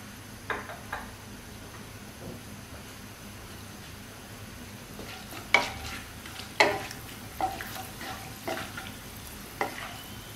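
Whole garam masala fries in hot oil in a pot on lowered heat, giving a steady soft sizzle under periodic scraping stirs and clinks of a spoon against the pot, close by.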